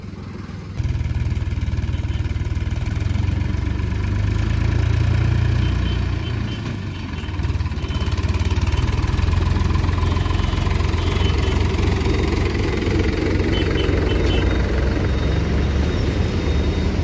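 A tractor engine runs while towing a loaded pickup, a loud, steady, close drone with a deep low rumble that holds throughout without pause.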